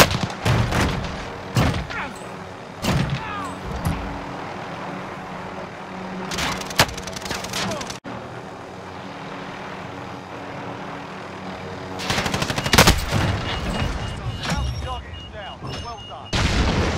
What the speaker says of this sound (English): Somebody's shooting right now, right?